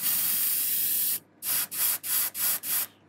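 An airbrush sprays paint onto a handmade fishing lure: one long steady hiss, a short gap, then five quick evenly spaced bursts, close and loud, with no one talking.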